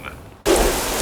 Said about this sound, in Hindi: बाहर बारिश भी बहुत हो रही है